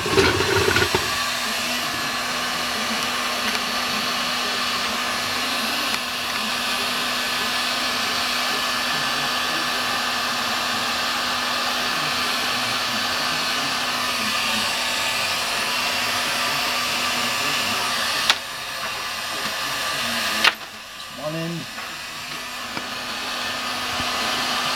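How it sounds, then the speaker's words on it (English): A heat gun blows a steady, loud hot-air roar throughout while a guitar lead is built with Neutrik jacks, with a brief clunk and shift in tone near the end. "Take your heat gun."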